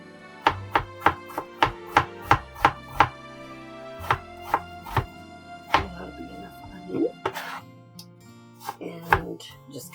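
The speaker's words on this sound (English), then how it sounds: "I just go ahead and slice it one way and then slice my onion up this way." A knife slices through an onion on a cutting board, giving a steady series of about a dozen sharp, close chopping taps, then sparser cuts and faint handling noise toward the end.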